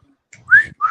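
A person whistles a short melodic phrase in two clear rising bursts, close and fairly loud, with faint low murmuring underneath; meant as the Andy Griffith Show theme.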